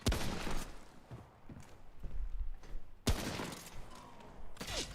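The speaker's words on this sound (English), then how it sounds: "I love how accurate this gun is." A hunter rifle firing in the video game Remnant: From the Ashes, with several loud shots and short bursts cracking out over about five seconds, each followed by a brief echoing tail.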